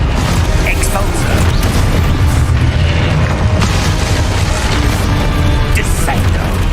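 The Expulso explosion spell in Hogwarts Legacy lets off a loud, booming blast amid a dense, continuous wall of game combat noise that stays loud throughout.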